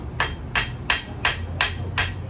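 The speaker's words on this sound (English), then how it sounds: "I'm refining the surface finish of the material by using a slightly polished hammer." A polished hammer planishes steel on an anvil while a blacksmith forges a kunai, giving six evenly spaced, bright metallic strikes of moderate force, close and clear with no talk.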